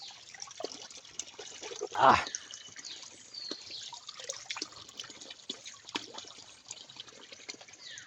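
Clear spring water trickles and drips steadily at a natural spring, a close, continuous liquid gurgle with one louder splash early on.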